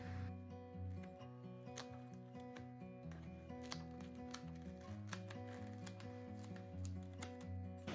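Scissors cutting out a Dollar Tree craft piece give soft, irregular snips and paper rustles, quiet and close, over a steady musical bed with no talking.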